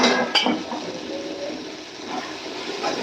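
A pot of kuchho chingri chorchori, small prawns cooked with brinjal, potato, onion and green chili, is stirred and covered with a lid. One sharp clink is followed by a steady wet clatter of utensil and pan at close range.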